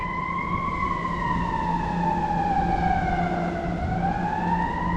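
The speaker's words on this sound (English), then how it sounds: "Yeah, the sirens are going crazy. Yep, that's the bigger truck." A fire truck siren wails steadily, rising and falling slowly in pitch, loud and sustained over a rumbling engine of a larger fire truck.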